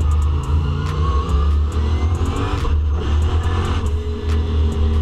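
A twin-turbo manual-transmission car accelerates on a race track, its engine a loud, steady, close drone with a deep low rumble throughout and brief shifts in pitch.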